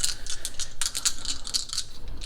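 Small hard objects rattle and clatter in a quick series of clicks, like dice shaken and tumbling onto a surface, close and fairly crisp.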